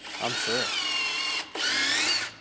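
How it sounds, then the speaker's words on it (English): A power drill boring into a wooden whiskey barrel at a distillery, two sustained high whining runs with a short pause between, close and loud, with a brief spoken phrase at the start. "I use these little wood spiles and a drill."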